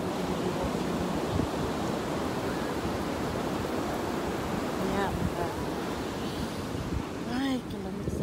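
Ocean waves and wind at a Gulf of Mexico beach on South Padre Island, with continuous rumbling surf and gusting wind buffeting the microphone, steady and loud throughout.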